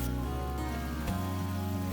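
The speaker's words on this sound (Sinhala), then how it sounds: "වතුර කෝප 4න් එකක් එකතු කරගමු." A quarter cup of water poured into spices frying in a pan for a Sri Lankan potato fry, giving a steady dense hiss and bubbling that shifts to a lower boil partway through. Close, continuous, with no talking.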